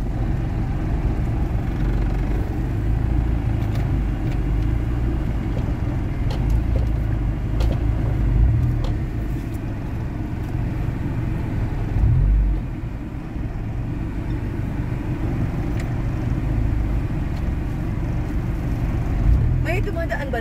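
A car engine idles and rumbles low and steady while the driver looks for a place to park near a house. People talk over it throughout.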